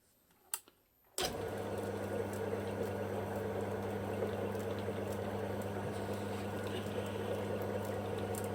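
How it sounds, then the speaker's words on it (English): A metal lathe runs in back gear with its lead screw turning, a steady mechanical drone and hum that starts abruptly after a couple of faint clicks and carries on evenly, moderately quiet and close, with no talking. "So as you can see, your lead screw here is rotating quite a bit faster now."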